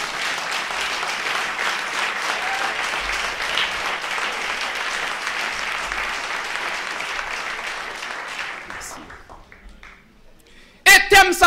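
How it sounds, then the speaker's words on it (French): A church congregation claps in loud, sustained applause that fades after about nine seconds, followed by a brief sharp burst of sound at the end. "On applaudit Jésus, on applaudit Jésus."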